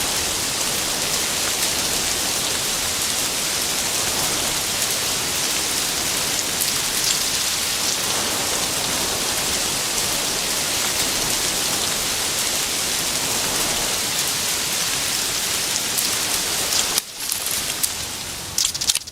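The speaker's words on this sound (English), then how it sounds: "It's raining." Steady, dense rain hiss from the video game Escape from Tarkov, constant and enveloping throughout, with a brief rustling change near the end.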